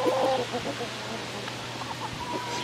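Backyard garden chickens cluck and murmur close by in a short burst, strongest at the start, over a low steady hum with faint background noise.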